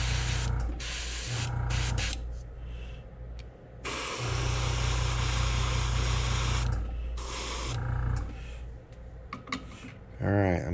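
An airbrush hisses steadily as it sprays pink paint onto a hard jerkbait fishing lure, in long bursts separated by short pauses, with a low hum and a brief voice near the end.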